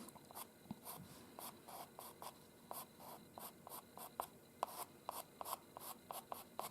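A pencil lays fine, short fur strokes on paper while drawing white fox fur, making a quiet, close scratching in a quick, regular rhythm of brief bursts with no voices.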